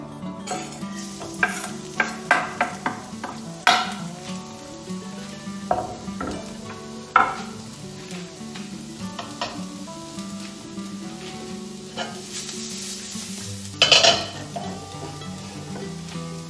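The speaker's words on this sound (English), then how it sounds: "We can go straight in with our onions and garlic." Onions and garlic frying in a pan for salt and pepper prawns: a constant close sizzle with irregular stirring scrapes and taps, and a louder clatter of the utensil near the end, with no talk.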